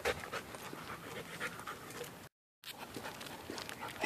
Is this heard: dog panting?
yes